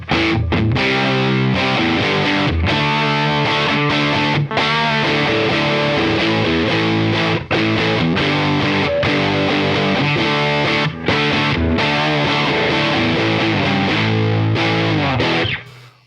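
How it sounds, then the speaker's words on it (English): A heavily distorted electric guitar through a JHS 424 Gain Stage pedal plays dense, fuzzy chords continuously with brief gaps, the tone gritty and lo-fi throughout. "like a nasty distortion pedal."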